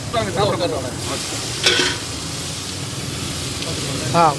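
Mee goreng noodles stir-fried over a wood-fired stove at a Penang street stall, with loud steady sizzling and scraping stirring throughout and a voice talking over part of it.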